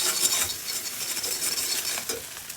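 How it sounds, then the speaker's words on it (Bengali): Noodles with scrambled egg being stirred in a frying pan: a bright hiss and sizzle under a few quick spoon scrapes, close and fairly loud, with no talking. "আমরা একটু নাড়িয়ে দেবো।"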